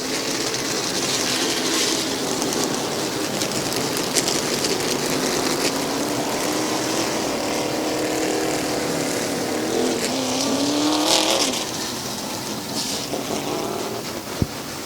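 Outlaw Super Late Model race cars rolling around Midvale Speedway on a wave lap, a sustained loud engine drone with a rising pitch sweep as the field passes, heard without voices.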